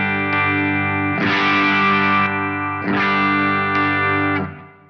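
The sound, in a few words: guitar clean chord through Wampler Euphoria drive pedal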